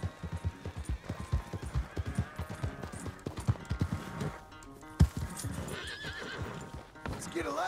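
Rapid clip-clopping of horse hooves close by, with a horse whinnying and snorting partway through and a voice speaking over the steps.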